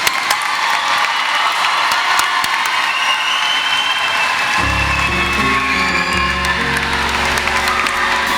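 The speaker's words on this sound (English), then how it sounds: "Let's give them a round of applause." Audience at a university commencement applauding new graduates: dense, sustained clapping with scattered cheers, loud and filling the hall, then music joins beneath the applause partway through.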